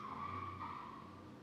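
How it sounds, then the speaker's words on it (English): A car skids somewhere outside, a faint, distant, steady tire squeal lasting over a second, heard alone in a quiet room. "I don't know if you heard that outside, that car."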